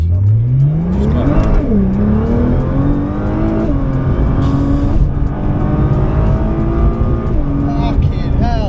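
A Nissan GT-R accelerates hard in first gear in standard modes, its engine loud and close, rising steeply in pitch with rapid upshifts and repeated climbing revs.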